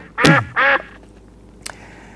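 A duck quacks twice in quick, loud, nasal bursts as a sound effect, followed by a small click and quiet.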